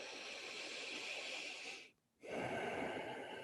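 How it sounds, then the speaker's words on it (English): Ujjayi breathing in a gentle yoga class for people with Parkinson's, a long breathy hissing inhale, a brief silent pause, then a stronger rushing exhale, close and alone. "Use that Ujjayi breath to even out whatever energies are stirring or making this challenging."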